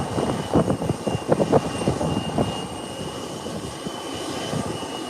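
A jet airliner lands at an airport, heard from a distance as a loud, rumbling engine roar with bursts of reverse-thrust noise that slowly fade to a steady hum. No one speaks.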